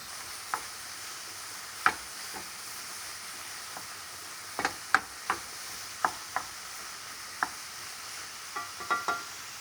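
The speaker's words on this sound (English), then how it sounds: "we're gonna add the veal chopped meat" Veal ground meat browning in a pan for bolognese sauce, with a steady soft sizzle broken by scattered clicks and light scrapes of stirring, close and fairly quiet.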